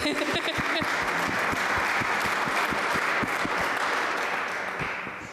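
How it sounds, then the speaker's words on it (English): An audience at a Shawnee County community safety meeting gives a round of applause, crisp individual claps forming a lively, steady patter that fades slightly toward the end. "Give him a round of applause, too, as he comes forward"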